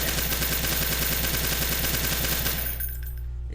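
Select-fire M1 carbine in Call To Battle 2 firing one long, loud, rapid full-auto burst for over two seconds, then cutting off into a short ringing tail.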